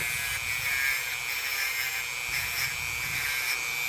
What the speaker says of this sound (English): Hit this corkscrew a little bit, make sure I think I got all the rust off of it, sand it off